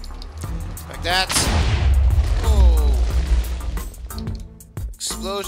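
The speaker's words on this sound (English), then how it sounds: "Explosions all over the place." Booming video game explosions in Minecraft rumble one after another, loud and heavy, with a brief exclamation from a voice near the start.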